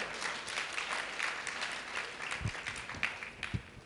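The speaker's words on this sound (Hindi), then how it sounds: "उस टोडरमल के नाम से पुनः तालियां बजाई जाए।" Crowd applause at a religious festival gathering for Lord Adinath's birth celebration and chariot procession in Bhatapara, Chhattisgarh, steady dense clapping throughout with a few louder, closer claps near the end.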